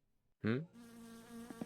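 In the video game My Summer Car, a mosquito's steady, thin buzzing whine drones on close by, right after a brief murmured voice.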